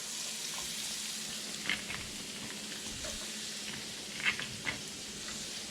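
Onion sizzles steadily in a hot pan as it fries toward golden, a soft continuous crackle with a few louder pops and stirring sounds heard close up.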